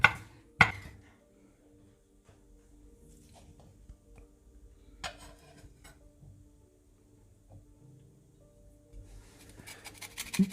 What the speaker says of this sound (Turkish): Küçük küçük doğradıktan sonra hemen kabımızın içine